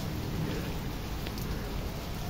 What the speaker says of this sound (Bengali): বৃষ্টিটা হচ্ছে